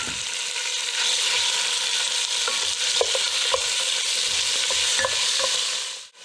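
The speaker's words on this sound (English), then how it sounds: "We're going to be starting off by searing some pork." Pork shoulder searing in a pan, a loud, steady broad sizzle with a few light clicks and taps, continuous until it cuts off at the end.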